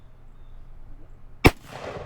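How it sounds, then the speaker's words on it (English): A single sharp shotgun blast fired at a turkey during a spring turkey hunt outdoors, sudden and loud against quiet surroundings, trailing off into a brief echo. "Put a nice shot right into this turkey."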